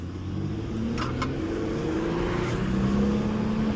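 Small pickup truck driving down a road, heard as a steady low engine drone with a faint rising tone, continuous and fairly close throughout.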